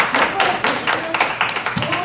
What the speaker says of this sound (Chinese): 所以大家给个掌声吧